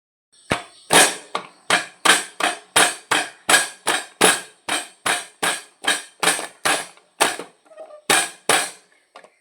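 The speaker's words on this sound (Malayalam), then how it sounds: "കരിവേപ്പിലി ഒന്ന് ചതച്ചെടുക്കട്ടെ" Steady rhythmic pounding, around eighteen heavy thuds in a row with short gaps, close and loud, like a pestle crushing coconut, chilli, garlic and curry leaves in a mortar.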